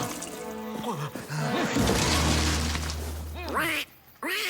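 A duckling quacks repeatedly in an animated film, bright, close calls in quick bursts over background music and effects, ending after a short silence.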